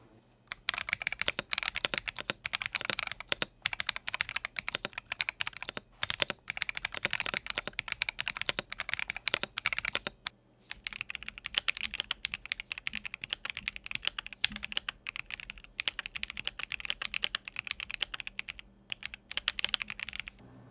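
Steady, rapid typing on a Razer Blackwidow V4 Pro 75% keyboard and a Lemokey L1 with Gateron switches, dense clacky keystrokes running continuously with a brief pause midway and no talking.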